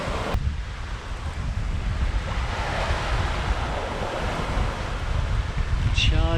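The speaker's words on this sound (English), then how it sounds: "But you might better hear the water thundering past." Water thunders past the hull of a Hallberg-Rassy 54 sailing yacht charging along at night in strong beam wind, a continuous loud rushing wash mixed with wind buffeting the microphone.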